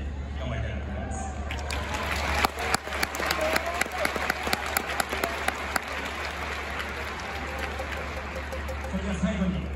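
Spectators in the Tokyo Dome applaud and cheer after a WBC 2023 Japan versus Australia baseball game, sustained clapping with scattered sharp claps under a steady crowd roar, while a voice speaks over it.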